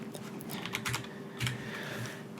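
Close, fairly quiet typing on a computer keyboard: a short burst of quick, uneven keystrokes and clicks over a faint steady hum.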